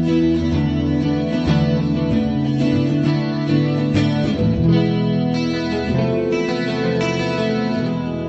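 Electric guitar played through a Korg Pandora PX4D acoustic simulator, with a bright, acoustic-like tone, strummed chords and single notes ringing steadily with a touch of chorus and reverb.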